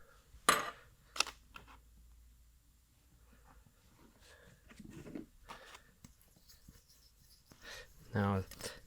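A piston ring compressor is handled on a 1937 Knucklehead engine, giving a few sparse metallic clinks and taps in a quiet room while someone speaks.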